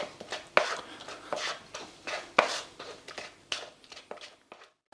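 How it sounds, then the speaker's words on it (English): Béchamel sauce pushed through a metal strainer with a spoon, a series of sharp scraping taps and rasps in an uneven rhythm, close and fairly loud, with no voices, fading out at the end. "So I've almost finished pushing the sauce through the strainer"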